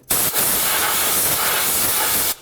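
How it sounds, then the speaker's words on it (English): Compressed air blasts steadily around a spark plug well on a 2000-09 GMC Yukon engine, a loud, broad hissing rush lasting about two seconds with a brief dip near the start, then cutting off sharply. "Before we take the spark plug out, just take a little compressed air"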